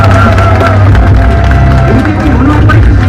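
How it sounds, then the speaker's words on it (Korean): Crowd at a Seoul mayoral campaign launch rally welcoming the candidate with loud cheering and clapping, a dense, close roar with shouts and whoops layered over a heavy low rumble. "큰 박수로 맞이해주시기 바랍니다."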